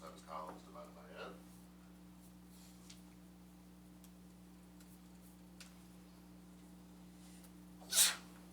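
A single sharp sneeze bursts out near the end, loud and brief, after a long stretch of quiet classroom hum with a few faint sounds.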